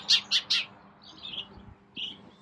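A sparrow chattering up by a house in a May garden, three quick bright chirps close together, then softer twittering and one more short call, fairly close and clear over quiet surroundings.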